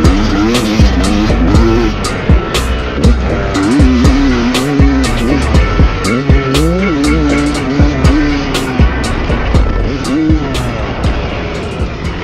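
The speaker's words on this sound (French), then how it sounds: "Voilà le petit crash" Two-stroke motocross bike on a local dirt track, engine screaming and revving loud and close with rapid pitch changes and sharp impacts during a crash.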